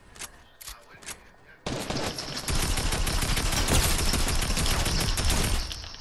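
Rapid gunfire in Fortnite: a few faint shots, then a sustained loud burst of automatic fire that rattles on for several seconds.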